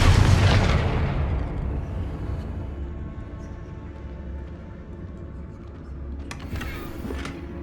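A Confringo blasting spell explodes in Hogwarts Legacy, a loud booming blast that opens the sound and rumbles away over several seconds, followed by a faint crackle near the end.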